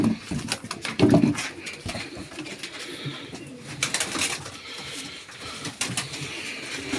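Pigeons of old pedigree lines coo and call in a loft, the soft throaty coos strongest near the start, with scattered bird calls, rustling and a distant dog-like sound throughout.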